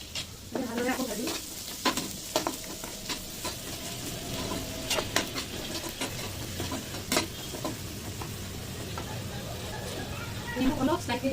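Cumin, coriander and red chili frying in a pan with oil, a steady sizzle under repeated sharp scrapes and clinks of a stirring spoon, close and continuous.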